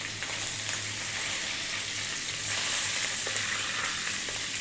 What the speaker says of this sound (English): We're now going to add the curry leaves, which can be very noisy sometimes.